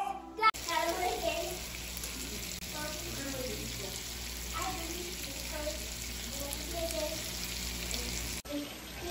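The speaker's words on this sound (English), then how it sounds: "Lamb cooking." Lamb chops fry in a pan with a steady sizzle and occasional spatter, continuing for several seconds with faint background noise.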